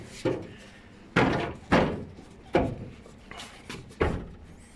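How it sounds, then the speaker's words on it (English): A series of heavy metal door slams and thunks from a classic Ford Escort panel van, about five sharp impacts spaced irregularly, close by with rattling in between. "I'm going to close these doors quickly."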